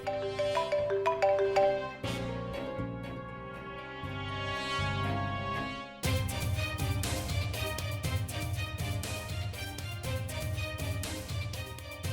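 A mobile phone belonging to a police commissioner rings in a Telugu TV serial, playing a loud, continuous melodic ringtone that shifts to a fuller, busier tune partway through.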